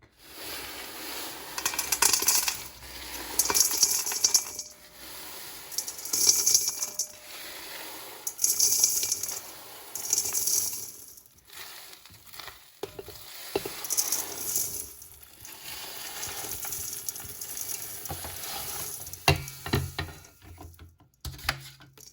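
Apple cinnamon granola ingredients are tossed and mixed by hand, with bursts of clicky, rattling clatter and dry rustling separated by brief pauses.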